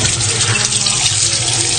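Hot water gushes steadily from a tap over live crabs being killed and cleaned, a loud, continuous splashing rush that stays close and even the whole time.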